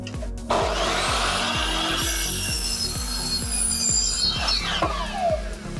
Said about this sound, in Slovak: stále režeme s tým nastaveným 45 stupňovým uhlom.